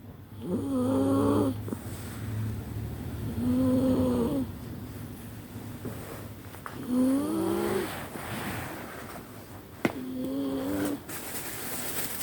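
A pet dog asleep at home snores in four slow, even breaths, each a drawn-out rasping rumble spaced a few seconds apart, close and moderately loud over a quiet indoor background.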